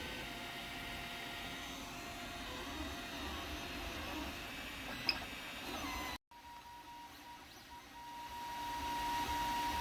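An Ender 3 Pro 3D printer gives a steady mechanical whirring hum for several seconds, briefly cuts out, then resumes, with a faint click partway through.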